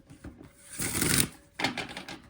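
Oracle cards being shuffled by hand in a quiet room, giving a soft papery riffling burst that builds for about a second, a brief pause, then a second shorter flurry of card rustling, close and alone.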